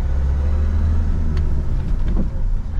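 A car's engine steadily pulls and rumbles up to speed during a driving lesson on a hill start, heard close from inside the cabin, with a few light clicks over the drone.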